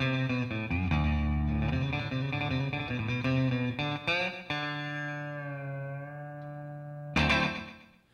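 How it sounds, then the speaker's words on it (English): Electric guitar through an Electro-Harmonix #1 Echo digital delay pedal set for short slapback echo: loud, distorted chords and riffs with tight doubled repeats, ending on a sustained ringing chord and one last strum. "The number one echo is really great for doing short doubling or slapback echo effects"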